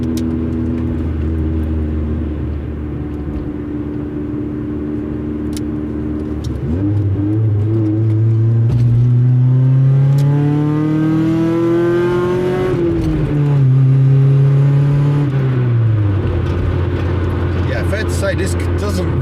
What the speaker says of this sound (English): It's hard to get away from the exhaust, really.